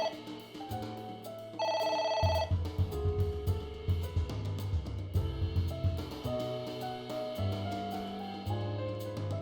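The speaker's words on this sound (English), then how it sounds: "It's ringing again. Okay, ignore the phone again." A telephone rings in the video game AI: The Somnium Files, a brief electronic trill over steady in-game background music.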